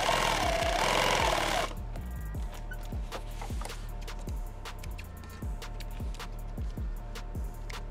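A sewing machine stitches a Thermacell pouch, running in a steady rapid rhythm of mechanical thumps, close and continuous, after a brief louder whirring start.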